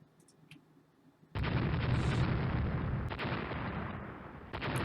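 A destroyer blows up during a naval battle in the game Rule the Waves: after a quiet stretch with faint clicks, a sudden loud blast erupts into a heavy, sustained rumbling roar that fades slightly before a final burst.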